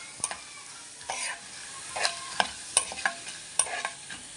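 Dried red chillies fry in a pan for a yogurt chilli chutney, a soft crackling sizzle broken by sharp scrapes and clinks as a spoon stirs them every second or so.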